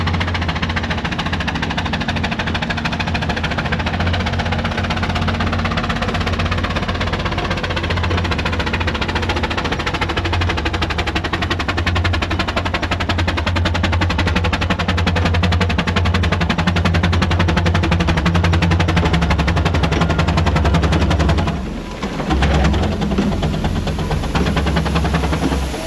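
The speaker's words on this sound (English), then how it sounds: "we have got two traction engines but no trailer" Marshall and Foster steam traction engines, the Foster a new build finished in 2022, climbing a hill at the Welland Steam Rally, a loud, continuous rapid chuffing and mechanical clatter that holds steady throughout with a brief dip near the end.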